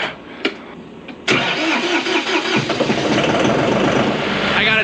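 A tractor engine cranks briefly with a couple of clicks, then catches and settles into a loud, close, steady idle with a rough rumble, no voices heard.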